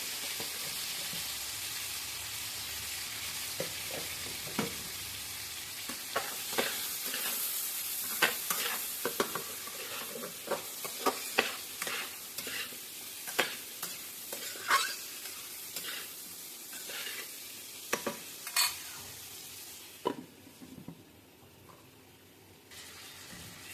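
Long strips of eggplant and potato frying with salt and turmeric, a continuous sizzle under repeated sharp clicks and scrapes of stirring, ending quieter.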